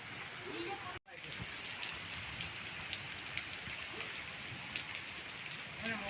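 Steady rain falls on surfaces in a hot, humid setting, a dense broadband patter that holds evenly throughout with one brief dropout near the start, and no voices over it.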